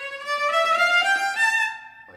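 A single bowed string note that swells from soft to louder, then fades away, played alone and close.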